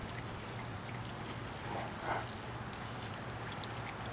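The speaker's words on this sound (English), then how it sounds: "Water these here. Water real good." Water from a watering can pours steadily onto pepper and tomato plants in a garden bed, a soft continuous splashing trickle that stays even for several seconds, close and fairly quiet with no voices.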